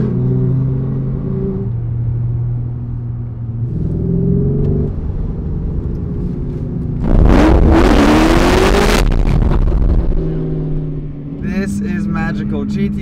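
Sports cars including a Porsche GT3 RS, a Mercedes Black Series and a Citroen drive past on a road during a supercar road trip, engine rumbles swelling and fading with a loud close pass midway, under excited talk.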